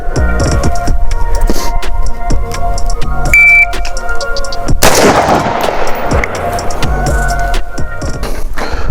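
Rifle gunfire during a shooting range drill: a loud close shot cracks out midway, with sharp reports and clatter around it over steady background noise.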